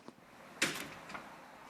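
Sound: steel door being closed quietly

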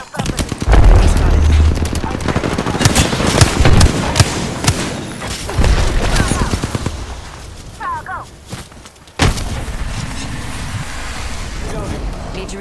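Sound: gunfire in the video game Apex Legends

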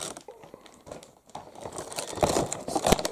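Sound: opening the box of a bootleg Squid Game figure

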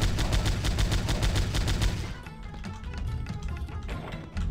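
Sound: grenade explosions in the video game Powerslave Exhumed

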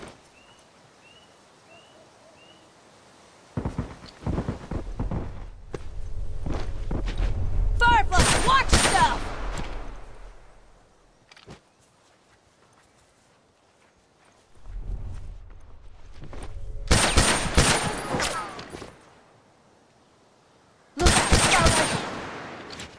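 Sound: rifle gunfire in a video game

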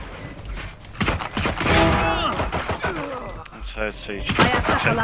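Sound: gunfire in a shooter video game

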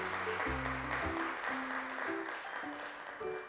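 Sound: applause sent to the children

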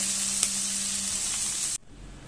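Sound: banana flower with prawns frying in a pan

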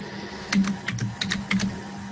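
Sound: someone typing on a computer keyboard

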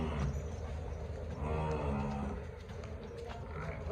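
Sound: buffalo on a dairy farm

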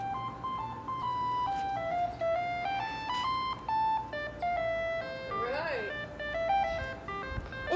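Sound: ice cream truck jingle played from a video on a phone

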